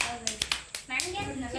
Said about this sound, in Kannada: ಚಪ್ಪಾಳೆ ಇಲ್ಲಿ